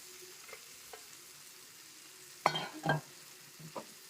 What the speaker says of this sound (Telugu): కలుపుతున్నా అండి ఒకసారి